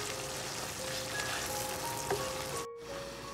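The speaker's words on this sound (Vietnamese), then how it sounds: "khi mà cái mắm á, nó đang sôi như vậy" Fermented fish sauce (mắm) with a little chili powder boils and sizzles in a pan, giving a steady, close crackling hiss with small pops and a brief cut near the end.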